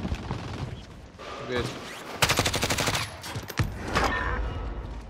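Rapid automatic gunfire bursts in Call of Duty Warzone, a dense rattling volley midway with scattered single shots before and after, heard under players' voice chat.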